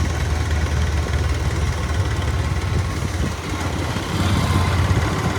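A motorbike engine runs steadily at idle or low speed, with a continuous low-pitched throb and even rumble throughout, close and fairly loud with no talking.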